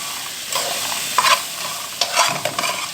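Garlic and vinegar hitting hot fat, a loud close crackling sizzle with bursts of sputtering that flare up twice, alone without voices.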